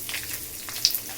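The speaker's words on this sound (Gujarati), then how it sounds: "વઘાર થઈ ગયો મસ્ત મજાનો." Tempering of asafoetida and curry leaves crackles in hot oil, a short close bright sizzle with a sharp pop near the end.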